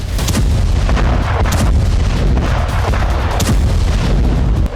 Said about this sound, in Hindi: इजरायली एयरफोर्स जबरदस्त बमबारी कर रही है